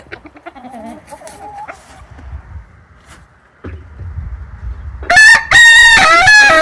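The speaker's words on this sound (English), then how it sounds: "Grumpy chicken." A chicken in a coop's nesting boxes makes soft low clucks and grumbling, then breaks into a loud, close crowing squawk at the end.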